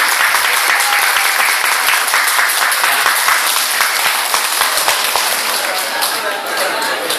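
A large seated audience claps hard and steadily, a dense continuous roar of applause filling the room without a break for several seconds.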